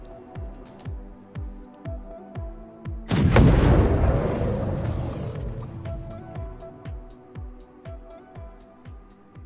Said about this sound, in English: One size 9 torpedo.